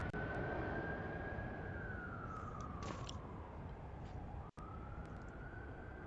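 An ambulance siren at Heathrow Airport in London, heard as a steady tone gliding slowly down in pitch as it passes at a distance, over a constant broadband roar of aircraft and airport noise, with a brief dropout partway through.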